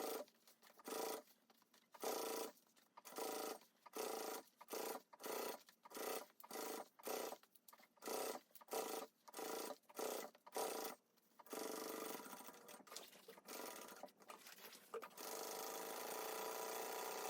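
A sewing machine topstitching and basting fabric for a sling bag, heard as a quick series of short stitching bursts with brief pauses, then longer steadier runs near the end, close but fairly quiet.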